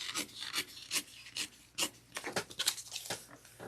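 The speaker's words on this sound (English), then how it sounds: "Then we're going to pull this nice and taut down, and then we're going to trim the bottom pocket" Scissors trimming the fabric of a bag's drop-in pocket lining, a run of short rasping snips and rubbing strokes close up, irregular in rhythm and heard alone without talk.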